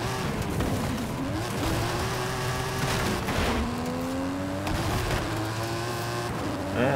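Race car engine in Forza Horizon 5 revving steadily with rising and falling pitch sweeps as gears shift, loud and continuous, with a burst of crackle midway and no talk.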